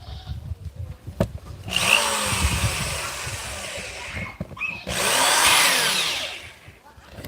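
A hole shooter power drill runs in two bursts of a few seconds each, drilling holes for #4 rebar, with a short pause between, loud and close with some handling noise.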